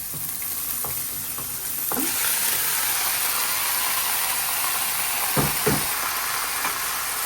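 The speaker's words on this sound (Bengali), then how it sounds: "আর এটা এখন ভাজি করব একটু সাথে একটু ছোলা দিয়ে দিলাম" Vegetables fry with boiled chickpeas in a pan, a loud, steady sizzle that swells after a couple of seconds, punctuated by a few knocks and scrapes of a stirring spoon.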